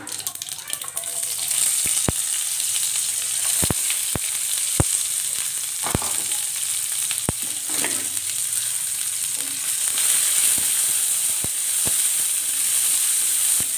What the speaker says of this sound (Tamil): சின்ன வெங்காயத்தை எண்ணெயில் போட்டுக்கலாம்